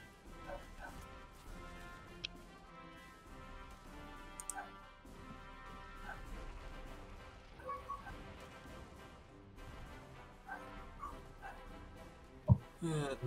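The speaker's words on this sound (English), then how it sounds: "Yeah, sorry about the dogs." Several dogs bark and yip intermittently at a moderate distance, mixed with other household noise and occasional clatter, sitting under a low bed of background sound throughout.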